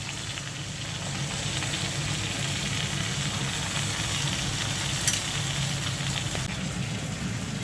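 Malabar spinach frying with onion, chilli and salt in a hot pan, a loud continuous sizzle that holds steady and close, with a few faint stirring clicks and no voices.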